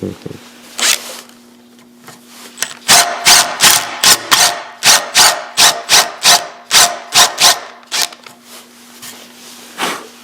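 A hand tool bores a round hole in wood for a dining table part, making a rapid series of short, rasping scraping strokes in uneven rhythm, close by, with a faint steady hum underneath.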